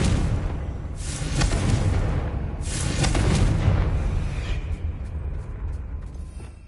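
A Confringo blasting spell explodes in Hogwarts Legacy with two heavy booming blasts, each followed by a rumbling roar that fades, while small crackling debris sounds trail at the end.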